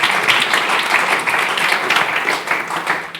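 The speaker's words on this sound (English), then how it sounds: "So applause for them" A conference audience gives a loud, dense burst of applause after a Global Scrum Gathering talk, continuous clapping throughout at close range.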